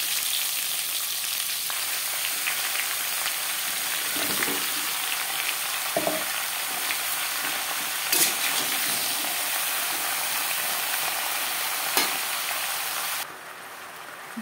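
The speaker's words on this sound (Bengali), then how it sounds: "পাঁচফোড়ন, তেজপাতা 10-15 সেকেন্ড ভেজে নেওয়ার পর দিয়ে দেবো টুকরো করে কেটে রাখা কুমড়ো" Pumpkin pieces and stalks fry in a pan with five-spice and bay leaf, giving a steady loud sizzle with occasional scrapes and knocks from stirring, then the sizzle quietens near the end.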